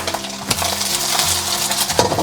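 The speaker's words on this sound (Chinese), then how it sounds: "我们先把荷花蛋给它煎起来" An egg fries in hot cooking oil in a heated pan, giving a loud, continuous close-up sizzle with a few sharp clicks and scrapes.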